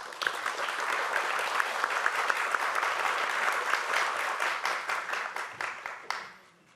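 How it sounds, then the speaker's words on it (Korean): An indoor audience at a policy forum claps to welcome a speaker, dense steady applause that holds for several seconds and then fades out quickly. "큰 박수로 맞이해 주시기 바랍니다"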